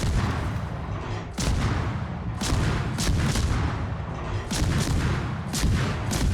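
Naval shells land one after another in World of Warships, a steady series of heavy booming impacts and crashes over a constant low rumble of sea and engines.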